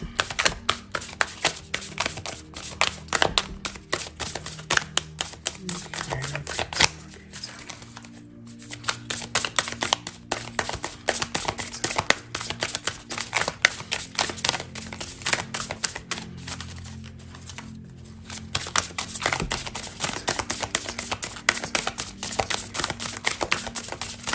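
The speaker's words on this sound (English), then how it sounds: "I just want to shuffle" Dense, rapid clicking and flicking of tarot cards being shuffled continuously, close up, with a couple of brief pauses and no talking.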